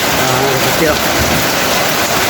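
Heavy rain pouring down steadily in a continuous loud wash, with faint background sound underneath and no clear talking.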